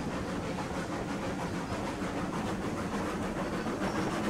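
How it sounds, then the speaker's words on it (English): Freight train with a heavy load of pipe in the RailRoads Online game, a steady rumbling roll with rhythmic clatter and hiss, continuous and moderately loud with no talk. "that's definitely a heavy load for this train"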